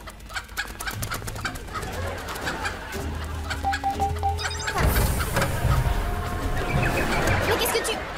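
Chicken clucking in a TV comedy scene, repeated clucks and squawks blended with background music and people talking over the sound.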